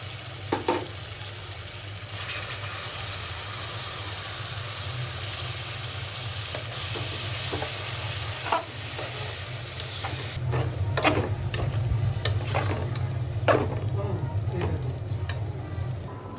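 A paste of ginger, garlic, onion and dried chili frying with onions for crab curry hisses in a loud, steady sizzle, with scattered scraping and clinking from stirring toward the end.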